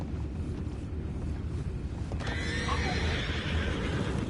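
A horse whinnies briefly partway through, over a steady low rumble of outdoor ambience, in the video game Red Dead Redemption II.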